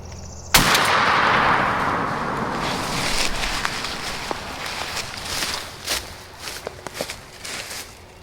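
A single loud, sharp shotgun blast fired at a wild turkey gobbler on an Alabama ridge top during spring turkey season, booming close and rolling off into a long outdoor echo, followed by faint rustling and footsteps.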